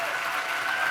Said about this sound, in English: So a round of applause for Josh and Mikkel.